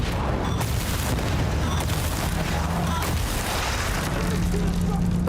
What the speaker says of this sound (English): Grenade right! Deploying grenades!